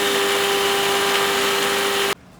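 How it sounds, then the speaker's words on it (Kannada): Electric kitchen mixer grinder blending coconut chutney with green chillies, coriander and salt, a loud steady high-pitched motor whine that runs continuously up close, then cuts off abruptly. "ಮಿಕ್ಸಿ ಮಾಡ್ಕೋಬೇಕು"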